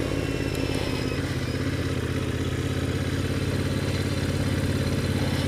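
A Royal Enfield Interceptor 650 motorcycle rumbles steadily while riding, its engine a constant, close, loud drone with no pauses.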